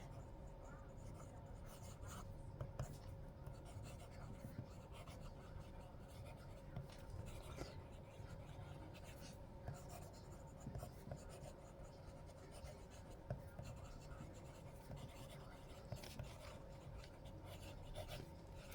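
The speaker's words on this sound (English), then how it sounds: "It feels good writing on this paper." Pelikan Pelikano fountain pen with a medium nib scratching continuously across Rhodia paper, a close, soft, steady rasp of strokes over quiet room noise.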